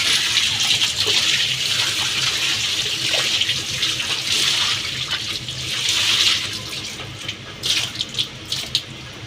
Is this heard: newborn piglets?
no